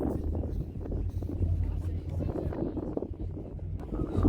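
Low, steady engine rumble and water wash aboard a ferry on the return crossing from Alcatraz to San Francisco, with wind buffeting the microphone throughout and no clear talking.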